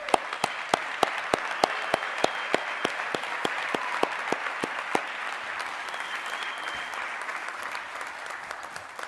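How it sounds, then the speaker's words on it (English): At a nursing commencement, the crowd gives the graduates sustained applause, a broad wash of clapping with a strong rhythmic beat of near, unison claps that fades into looser clapping. "Let's give these graduates another round of applause."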